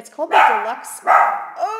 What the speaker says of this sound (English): This is taking forever to record because I have to keep pausing when they start barking.